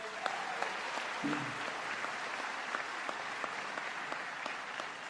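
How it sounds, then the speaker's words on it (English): A crowd gathered for a college tuition announcement applauds in a steady, moderately loud patter of many hands, with a few sharper individual claps and a brief voice or cheer early on. "let's give them a round of applause."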